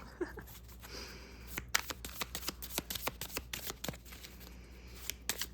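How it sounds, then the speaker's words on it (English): Rapid papery riffles and flicks of cards being shuffled, quiet and close, in quick irregular bursts with brief pauses between. "Oh, they shuffle pretty nice."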